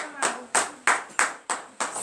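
A congregation at a morning prayer service in Benin claps in unison, six sharp, evenly spaced beats at a steady rhythm over a brief span, with some voices audible beneath the claps.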